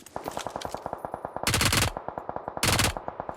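Gunfire in the PUBG Mobile video game: rapid automatic bursts fire in a steady, fast rhythm, with two louder, denser volleys that stand out close and sharp.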